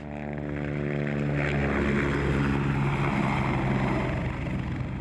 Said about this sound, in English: We filmed a real helicopter coming into the position.